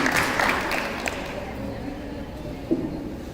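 Applause breaks out for a class 10 children's performance at a school Diwali celebration at Bhavans Goa: a steady wash of many hands clapping, densest in the first second, with crowd noise underneath.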